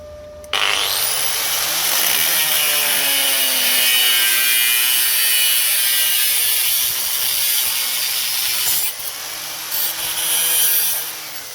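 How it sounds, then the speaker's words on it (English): A disc cutter slices through the rear sill metal of a Porsche 924, a loud, close, sustained high screech that holds for about eight seconds before it falters and tails off, with no talk. "So I'm just going to chop this off with the disc cutter."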